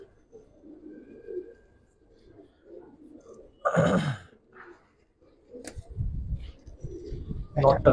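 Pigeons, a mix of old-breed birds kept for sale, cooing softly in low murmurs close by, with someone talking in between.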